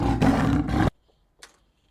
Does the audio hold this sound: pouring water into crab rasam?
no